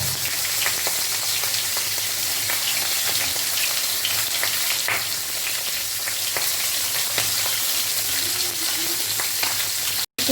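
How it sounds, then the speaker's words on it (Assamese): Fish heads frying in hot mustard oil in a kadai for a traditional Assamese muri ghonto, a steady close crackling sizzle with scattered sharp pops, continuous and loud until it cuts off abruptly at the end. "এতিয়া মই তেলত মাছৰ মূৰকেইটা ফ্ৰাই কৰিম।"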